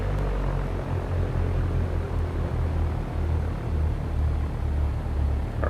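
Cessna 172 piston engine pulled back to a low 1000 rpm idle, a steady close propeller drone and low rumble heard from inside the cockpit, continuous and even with no voices.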